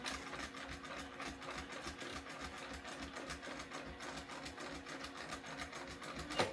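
A domestic sewing machine hums and ticks quietly in a fast, even rhythm during free motion quilting, running without a break close by.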